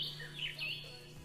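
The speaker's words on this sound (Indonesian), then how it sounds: "Salah satunya ialah suara khas burung cendrawasih Aru." Calls of the Aru bird-of-paradise in the Aru Islands: a few thin, high whistled notes, faint and distant, rising over a low steady hum with no one talking.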